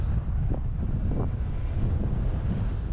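An RC model airplane engine drones steadily in gusty wind, a continuous rumbling hum with wind buffeting, with a couple of brief rising whines as the throttle shifts; no talking.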